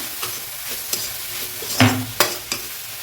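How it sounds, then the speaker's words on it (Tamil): Grated coconut and milagu thakkali greens roast in a pan, a low steady sizzle with sporadic spatula scrapes and a couple of louder clanks against the metal. "தேங்காயில் இருக்கிற ஈரத்தன்மை அந்த அளவுக்கு நல்லா வறுத்துங்க."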